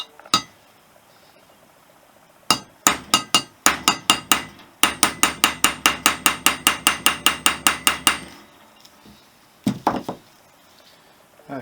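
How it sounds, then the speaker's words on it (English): A hammer taps a taper roller bearing race down the steering shaft of a Honda XL250s motorcycle, with sharp metallic strikes: a few spaced hits, then a rapid even series of about twenty blows, and a final short cluster. "I'm going to carry on tapping. It will take a while."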